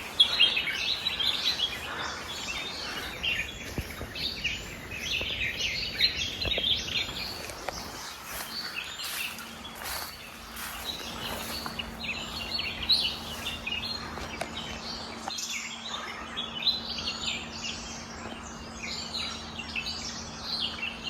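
Red-whiskered bulbuls chirp and call repeatedly over steady forest ambience at Tillari, bright short notes recurring throughout, moderately distant with no voices.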